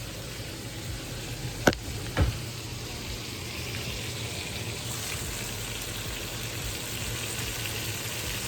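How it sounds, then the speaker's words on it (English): Steaks sizzle in a pan as a constant close frying hiss, broken early by two sharp clicks or taps, with no one speaking. "Cooking some steaks."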